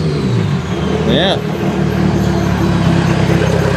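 A Nissan S13 240 engine running a little rich idles with a steady low rumble, then gives one quick rev that rises and falls; people talk over the engine noise.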